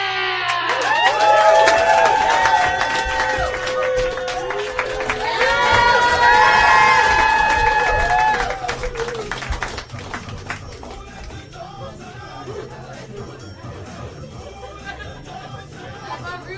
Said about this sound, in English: give them, more particularly, a warm round of applause for Laugh Track!